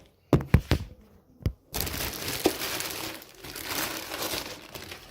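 Packaging for a Thrustmaster T80 pedal set is unwrapped. A few sharp plastic snaps are followed by sustained close crinkling and rustling of wrap, with no voices.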